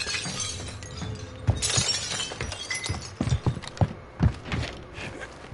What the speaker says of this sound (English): You heard that glass? Them breaking glass on you.